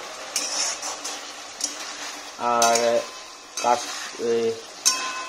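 Vegetable khichuri fries in a tempering of dried chili, bay leaf and cumin, with a light sizzle, intermittent stirring clanks against the pot and a few brief tonal hums.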